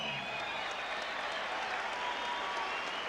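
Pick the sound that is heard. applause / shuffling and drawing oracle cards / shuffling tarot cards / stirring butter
applause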